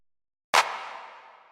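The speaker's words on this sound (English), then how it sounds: "I just added this lower sounding clap, and it sounds like this." A single low-pitched clap in a music track, one sharp hit after a short silence with a reverberant tail decaying over about a second, then the start of the next hit at the very end, isolated.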